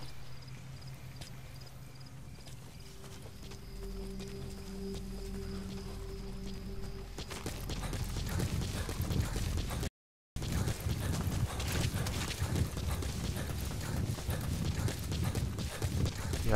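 A horse in the video game Metal Gear Solid V: The Phantom Pain gallops with rapid, rhythmic hoofbeats under a dense, noisy game soundscape; the earlier part carries steady tones before the louder galloping takes over.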